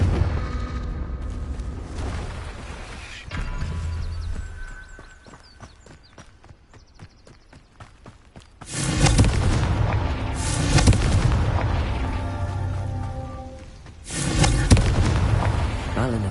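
Confringo fire spell blasts in Hogwarts Legacy: loud booming explosions with crackling bursts, coming in heavy waves after a quieter stretch of game sounds, with a spoken spell name early on.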